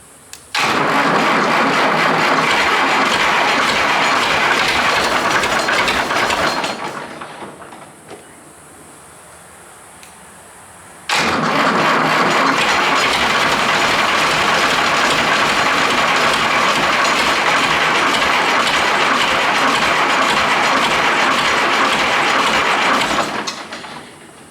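An abandoned old tractor crane's direct-injection diesel engine with no glow plugs, left out of gear, catches and runs loud and steady, cuts out for a few seconds, then restarts and idles strongly to the end.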